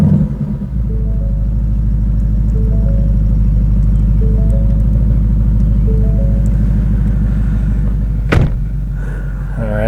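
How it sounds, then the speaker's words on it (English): A 2019 Ford Mustang Bullitt engine settles quickly into a loud, deep, steady rumble that holds throughout, with a brief thump near the end. "Let's go ahead and start the car and hear how it sounds at startup."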